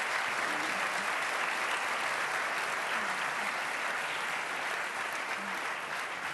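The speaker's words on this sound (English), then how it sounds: "I'd like all of you to join me in giving our panelists a round of applause" A seated audience at a dinner gathering claps steadily for a panel, a dense, even wash of applause that holds at a constant level throughout with no talk.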